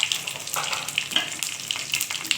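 Whole cumin and green chillies sizzle in hot frying oil, a crackling, spitting fry with scattered sharp pops, close and alone.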